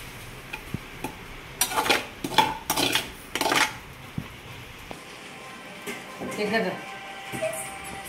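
Spatula or spoon clattering against a pan as an egg is added to spicy egg noodles, a run of metallic scrapes and knocks in the middle, then softer stirring, with a voice speaking over parts.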